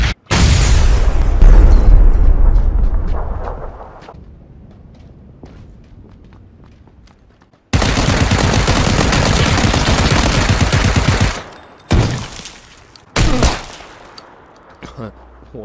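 Gunfire in the battle-royale game PlayerUnknown's Battlegrounds: loud, dense bursts of shots and booming impacts in separate clusters, with quieter stretches of footsteps and rustling in between.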